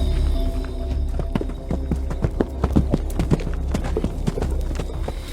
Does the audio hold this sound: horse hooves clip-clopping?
yes